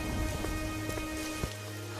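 Heavy rain pours steadily at night as a dense, loud hiss with scattered drop impacts, filling the whole stretch alone without voices, then dropping slightly in the low end near the end.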